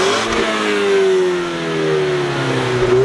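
A Ford Mustang EcoBoost engine revs loudly up close, its steady mid-pitched drone swelling and easing slightly over a few seconds with no talking.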